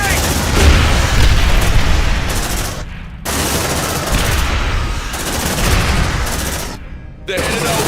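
Film combat with a grenade blast and rapid machine gun fire, loud and dense throughout, with bursts broken by two brief sharp cutoffs and shouted voices mixed into the chaos.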